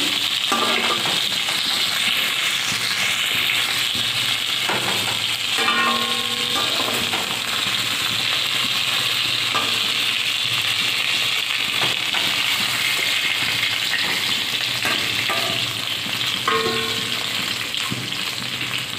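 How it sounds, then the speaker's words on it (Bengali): Steady, loud sizzling of fish frying in hot oil fills the whole stretch, with occasional clinks and scrapes of stirring. "মাছটা ভালোই ভাজা হয়ে গিয়েছে।"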